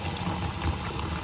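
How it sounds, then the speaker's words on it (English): Water is poured into a bowl of flour in a home kitchen, a close, continuous splashing trickle with no talking. "Next step, I'm going to add some water in here."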